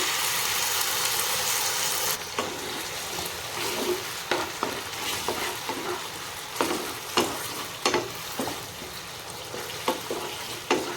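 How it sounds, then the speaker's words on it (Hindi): Chopped onion and capsicum fry in a hot pan with sauces for chilli soyabean, giving a steady loud sizzle with repeated scraping stirs throughout. "पियाज कैप्सिकम गोटे रू 2 मिनट फ्राए हो सारा पर एबे आम एथिरे ऐड करदे आमर सब सॉस"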